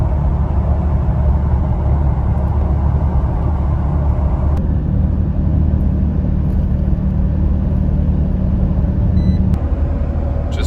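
A truck cruises along a road near Fairbanks, Alaska, a steady loud low engine and road rumble heard from inside the cab.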